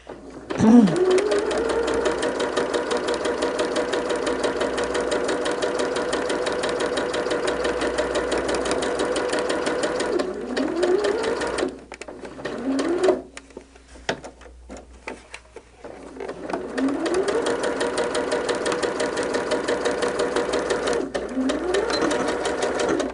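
A sewing machine stitching quilt blocks with a 1/4 inch foot, running in a steady fast mechanical chatter with a couple of brief pauses and restarts, close and clear.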